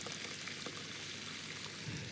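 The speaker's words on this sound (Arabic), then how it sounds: "دي ميه مغليه." Boiling water streams steadily into rice being cooked with onion and spices, a continuous hissing pour heard close up with no talking.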